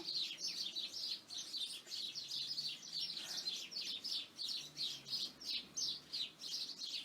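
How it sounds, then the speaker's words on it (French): Small birds chirp steadily outdoors in a rapid, continuous run of high tweets, fairly faint and distant over a quiet low background with no talking. "Là, on a les petits oiseaux qui nous accompagnent."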